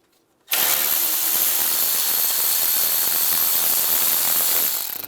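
A power tool with an 8mm socket spins off the intake manifold bolts on a 2007-2013 Chevrolet Silverado 1500. It bursts on after a brief silence and whirs loud and steady for several seconds before easing slightly at the end.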